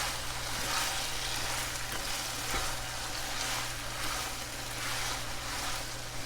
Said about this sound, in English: We're just going to let that simmer on low for about 10 minutes.